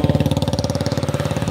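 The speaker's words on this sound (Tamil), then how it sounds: "இப்போ ஒரு புல்லட்டே வருது, கேக்குதா?" A Royal Enfield Bullet motorcycle engine thumps at a fast, even beat, the deep pulsing exhaust of a single-cylinder bike sounding close and steady.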